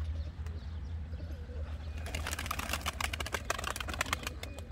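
Turkish flying game pigeons coo in a loft, low soft burbling that runs steadily beneath a fluttery rustle of wings and sharp scratchy clicks from the birds moving about nearby.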